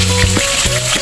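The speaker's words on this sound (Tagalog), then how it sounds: "Isda natin na piniprito" Fish frying in a pan with loud, steady oil sizzle and crackle close up, a few sharper pops rising out of the continuous hiss, with no voices.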